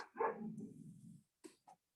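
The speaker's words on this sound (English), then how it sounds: "the dog's barking in the background" A dog barks faintly in the background, one drawn-out bark-like sound followed by two short yips, thin and distant, with no speech over it.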